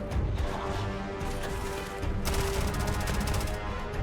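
Gunfire from a customized weapon in a AAA shooter game; a rapid stream of thin, light-sounding shots, loud and close, running in two bursts with a short gap between.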